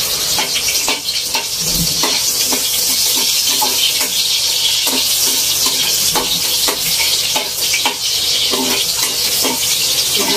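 Onion slices frying in a pan, a steady loud sizzle with stirring and scraping throughout, cooked in a home kitchen as part of a chayote dish.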